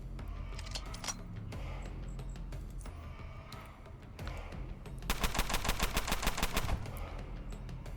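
Gunfire in the turn-based video game Underrail: scattered single shots and clicks, then a dense rapid burst of automatic fire near the end. The shots are loud and close over a low game-ambience hum.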